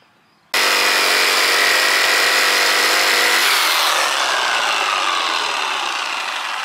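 A power saw bites into a wooden deck board to cut a small notch, a loud, steady whining cut starting abruptly and running close up for several seconds, its pitch shifting as the blade works through.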